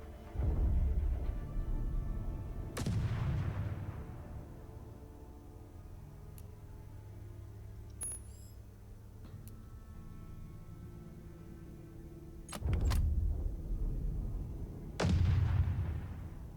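Artillery pieces firing in the video game Outpost Infinity Siege: three or four loud booming shots with ringing decay, spaced a few seconds apart, plus a couple of sharp ticks in between.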